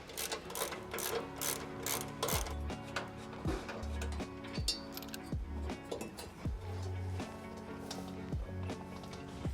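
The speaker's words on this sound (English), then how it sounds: "Looks like we got 3 17mm bolts behind there. So let's go ahead and get those removed." Three 17mm bolts being removed from a bracket on a 2024+ Toyota Tacoma, heard as a run of close metallic ratchet clicks and sharp clinks with irregular pauses, fairly quiet and without talk.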